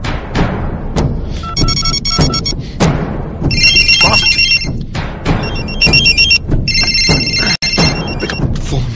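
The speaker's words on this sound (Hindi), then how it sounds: "Pick up the phone." A telephone rings loudly in repeated electronic bursts, alternating with thumps and movement noise close by, with no talk.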